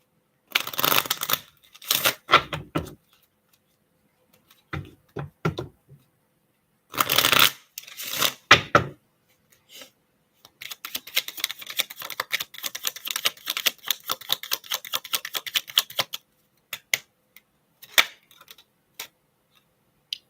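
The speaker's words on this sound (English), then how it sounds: "I'm going to get 2 of these cards and then I'm going to call it." Tarot cards handled close up during a live reading, with sharp bursts of shuffling, pauses, then a long run of fast riffling flicks and a few scattered taps as cards are drawn.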